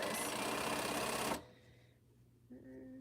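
A sewing machine stitching quilt pieces runs in a loud, close, steady whir for over a second, then stops abruptly, leaving quiet room tone and a brief tonal mechanical hum near the end.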